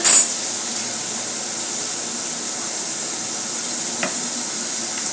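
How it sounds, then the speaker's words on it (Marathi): Hot oil sizzles in a pan while cooking a crab curry, a steady bright hiss that follows a brief clatter at the start, with a faint tap partway through. "तर फ्रेंड्स आता मी यात आणखीन थोडेसे तेल घालत आहे."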